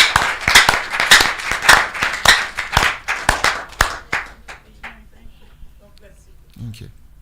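Studio audience clapping for a woman on a Nigerian talk program, a few loud, sharp hands clapping in an irregular rhythm that thins out and fades into sparse taps, with a brief voice at the very end.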